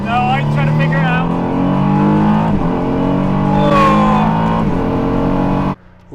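A Praga hypercar roars close by, its engine climbing through loud, rising revs for several seconds before the sound cuts off abruptly.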